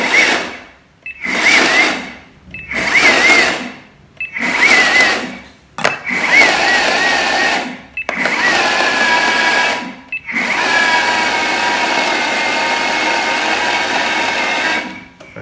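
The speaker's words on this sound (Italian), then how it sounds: "Andiamo a frullare a intermittenza." A blender blending garlic whirs in short bursts, starting and stopping several times, then runs in one longer continuous spin at the end.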